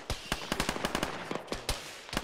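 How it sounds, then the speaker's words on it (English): Gunfire in the ShackTac military game: a rapid, irregular string of sharp, loud shots in short bursts, closely spaced and punchy. "You guys are firing RPGs."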